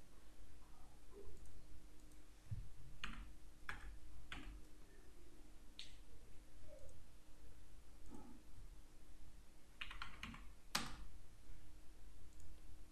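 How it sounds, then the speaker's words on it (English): A computer mouse gives a handful of quiet, sparse clicks, some in quick pairs, spread over a low steady hum with no talking. "Click right button on our mouse and click edit data"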